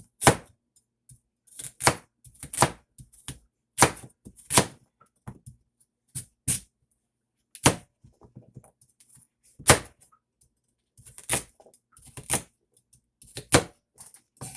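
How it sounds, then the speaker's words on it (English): Knife chopping three large carrots and two celery stalks on a cutting board, sharp close thunks in irregular bursts and quick runs separated by brief pauses. "let me just finish cut these up"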